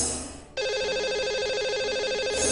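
A telephone rings on an outgoing call to a radio show's lucky caller: a steady electronic warbling ring tone, loud and close, starting abruptly after a short quiet stretch and continuing without pause.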